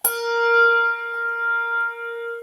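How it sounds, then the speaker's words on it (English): A single handbell rung once, its bright clear strike followed by a steady ringing tone with several sustained overtones that hums on evenly and loud, with no talk. "So when you play the bells, you hang on tight so you don't lose the bell."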